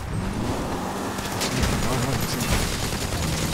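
Rapid gunfire in GTA Online aimed at a car's tires during a farm raid, a dense rattling fusillade filling the whole stretch with sharp bursts, while voices speak over it.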